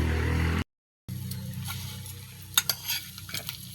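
Dried anchovies (dilis) sizzle and crackle in a hot pan while being stirred, with steady close frying hiss after a brief gap and a few sharp scraping clatters from the spatula near the end.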